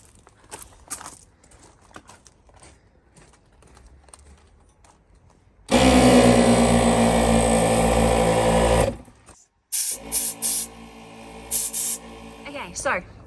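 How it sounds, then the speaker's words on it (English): Air compressor for inflating Land Rover camper tyres starts up loud and close, running steadily for about three seconds, cutting out, then restarting in shorter bursts, after quieter clatter and movement. "So I'm just gonna go turn the compressor on and then we can check it."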